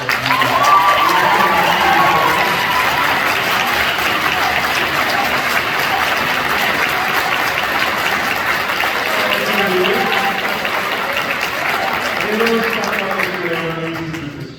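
Warm applause from an audience at a marching band awards ceremony, honoring the band's leaders; steady dense clapping mixed with crowd murmur and some voices throughout, easing slightly near the end.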